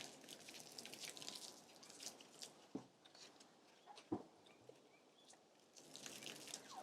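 Boiling water splashes and trickles steadily into small seedling cells, with a couple of sharper drips and taps, fairly close and quiet.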